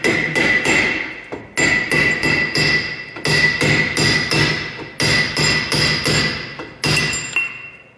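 A heavy hammer strikes a Jeep Wrangler JK Rubicon Dana 44 pinion yoke repeatedly, sharp metallic blows in quick bursts of several hits separated by brief pauses, loud and close.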